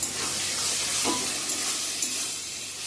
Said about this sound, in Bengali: ভালো করে কষিয়ে নিচ্ছি এখন নামিয়ে নেবো